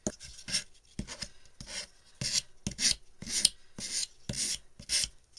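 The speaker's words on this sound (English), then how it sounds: "we're going to take our 120 sand grit sandpaper, and we're just going to come and just kind of, I just want to rough it up a little." Steady strokes of 120 grit sandpaper rasp over a wooden birdhouse, roughing up its surface. Around ten brisk back-and-forth scrapes come in a regular rhythm, close and fairly quiet, with no other sound.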